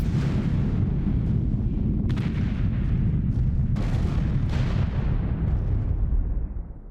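Bombs from a B-17 in The Mighty 8th detonate below as a deep continuous rumble, with a few sharper bursts rising over the steady roar before it fades at the end.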